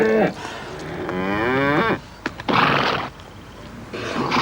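Cows low in a mountain pasture, with a long drawn-out moo near and clear, followed by shorter, rougher bellows and a few faint knocks.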